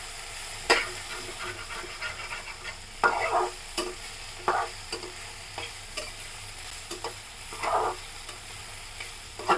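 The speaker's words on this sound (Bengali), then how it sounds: "ভালো করে ভেজে নিব।" Mashed flat beans fry and bubble in a pan over raised heat, a constant soft sizzle broken by repeated scraping stirs at irregular intervals, close by and without talk.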